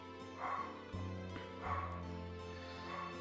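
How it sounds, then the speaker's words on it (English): A dog yips and barks in a few short, bright bursts over a steady background of game music in Final Fantasy X HD Remaster. "Gotta love dogs, am I right?"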